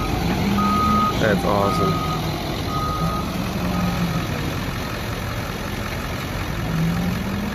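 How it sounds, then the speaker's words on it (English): Reversing beeps from a large 450 wheel loader sound over its steady engine idle while spreading mulch at an apartment in downtown Richmond, Virginia; the beeps repeat in a rhythmic pattern close by, and a person briefly speaks. "this is a huge loader"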